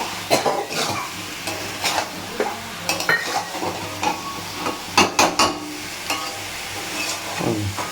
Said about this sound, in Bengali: ভালো করে সুন্দর করে কষিয়ে নেব